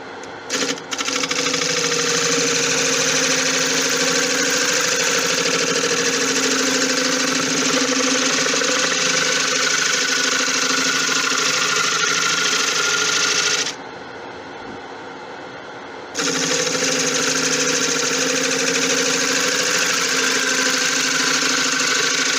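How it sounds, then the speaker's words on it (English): A wood lathe spins a compound resin river bowl as a gouge cuts it, a loud steady hum with a buzzing texture that drops out briefly partway through and then resumes. "I'll do it with the gouge rather than the cardboard."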